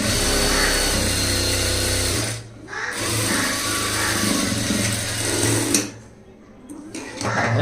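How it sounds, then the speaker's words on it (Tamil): Sewing machine stitching a front-gap blouse, a loud continuous close whirring run that pauses briefly twice before starting again. "அதே மாதிரி இந்த பக்கம் இன்னும் தையல் போடணும்."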